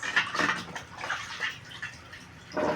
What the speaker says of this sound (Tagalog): Nugas tayong plato at ugasan natin yung mga to sa kalan para malinis guys.